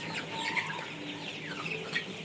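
Chickens on a poultry farm clucking and calling in a loose, overlapping chorus, with several short squawks from different birds at moderate distance and no talk.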